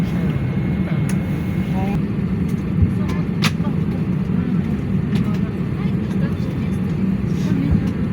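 A steady, loud low roar fills the cabin of an S7 Airlines Airbus A320, with faint clicks and small knocks over it and no voices on top.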